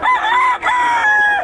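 A rooster crows loudly and close by at a busy tianggean market in Bocaue, one long drawn-out call that breaks briefly and then carries on, standing alone with no talk over it.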